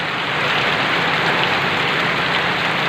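Heavy rain during a typhoon in Ilocos Norte, Philippines: a loud, steady, dense hiss of downpour, close and unbroken throughout.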